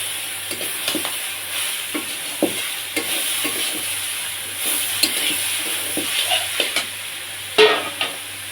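Chopped bottle gourd frying with coriander powder and slit green chillies in a pan for a moong dal ghonto, giving a steady, close sizzle broken by repeated clinks and scrapes of stirring, with no talking.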